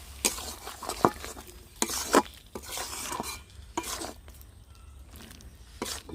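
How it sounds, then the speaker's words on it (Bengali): A spoon stirs homemade mango pickle mixed with lemon juice in a pan, giving a run of close scraping, clattering strokes in an uneven rhythm with brief quiet gaps and no one speaking. "লেবুর রসটা চিপড়ে রেখেছি আমি ওটাকে আচারের মধ্যে দিয়ে দিচ্ছি ভালো করে নেড়ে চেড়ে মিশিয়ে নিচ্ছি"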